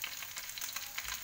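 Carrots and potatoes being stirred into a chicken feet stew, giving a steady, close frying sizzle with soft scraping of stirring throughout, no voices.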